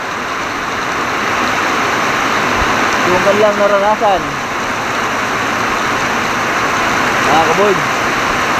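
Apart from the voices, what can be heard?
heavy rain pouring down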